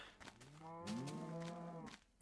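Cows in the Minecraft video game moo in one long, loud, close call that rises and falls in pitch and fills most of the moment, heard alone with no talk.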